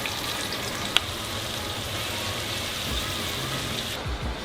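Floured slices of deer heart frying in a pan, a steady soft sizzle and crackle throughout with a faint clink near the start and a brief shuffling at the end.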